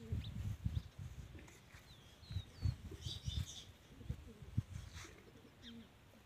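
Pigeons kept at a village home give soft, low, repeated coos, faint and fairly distant, with a few light chirps and a possible brief rustle of wings over quiet background noise.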